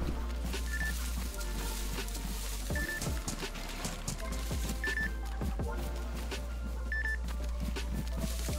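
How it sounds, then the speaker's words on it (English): C4 explosive in the DayZ video game beeps in short repeating tones about every two seconds, sitting within a dense, loud game soundscape. "Is it beeping for you? Yeah, mate, it's bleeping."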